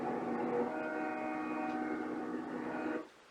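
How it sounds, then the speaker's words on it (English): A train rolls past in the film Duel, sounding a long, sustained multi-tone horn that holds steady for about three seconds, then cuts off abruptly into near silence. "The train is coming."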